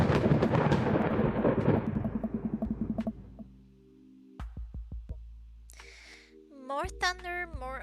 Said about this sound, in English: More thunder, more ominous organs.